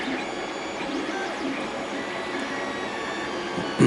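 A Creality CR10S 3D printer runs with a steady whirring hum of its motors and fans and faint shifting stepper tones, ending in a brief louder knock.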